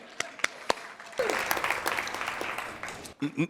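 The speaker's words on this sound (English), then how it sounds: "You can clap for the money" Applause from an audience at a Teacher of the Year ceremony, starting after a few sharp isolated claps and building into a steady, moderately loud patter of many hands for about two seconds before tapering, with a brief voice near the end.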